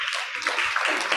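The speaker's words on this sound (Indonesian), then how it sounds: "Kita sambut bersama Bapak Martin B. Chandra, beri tepuk tangan yang meriah." Brief burst of lively audience clapping welcoming a moderator at a seminar, a close, continuous patter of many hands lasting about a second.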